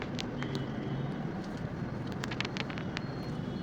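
Traffic jam on a road in Agra: a steady wash of idling and passing engines with scattered horn beeps near and far, continuous throughout.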